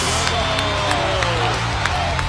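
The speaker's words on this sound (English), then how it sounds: "And he got a standing ovation." A crowd of about 5,000 cheers, whoops and claps for a young performer, a loud, dense wash of applause with sharp shouts rising from it and some talk mixed in.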